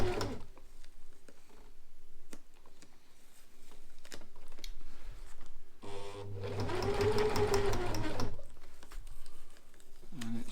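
A sewing machine stitches fabric for a tent footprint made for a Fjallraven Abisko 1 Lite tent, running at a moderate speed. Its close, steady whirring and rapid needle clatter come in short runs, then a longer loud stretch in the middle.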